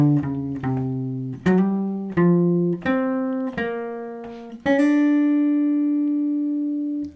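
A guitar plays a jazz phrase as clean, sustained single notes and double stops, about seven plucked attacks in a steady rhythm, the last note ringing out long and clear, no talking.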